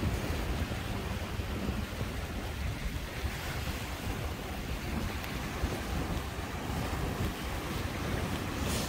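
High waves wash against the breakwater at Hujin harbour, a steady broad roar of surf mixed with gusting wind noise on the microphone, continuous and fairly loud with no voices.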